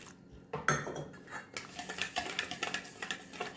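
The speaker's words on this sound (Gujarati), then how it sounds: "એમાં આપણે સહેજ ગરમ દૂધ લઈ લીધું છે. સરસ મિક્સ કરીશું." Semolina and warm milk are mixed in a bowl with a spoon, giving soft, close clinks and scrapes that settle into a quick, repeated tapping rhythm, with no voices.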